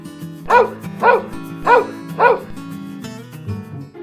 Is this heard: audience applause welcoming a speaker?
no